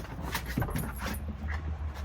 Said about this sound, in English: as my dogs jump in and out of the van because they like to do that